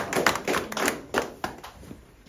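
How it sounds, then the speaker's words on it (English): A small group claps briefly for a finished print at a Rembrandt printmaking demonstration, a few scattered, uneven claps over about two seconds, close and fairly soft, fading out at the end. "Big applause for Ernani."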